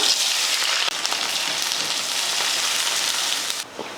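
Shallots and curry leaves fry in hot oil for an egg curry, giving a steady, loud broadband sizzle that holds evenly throughout and drops off slightly near the end.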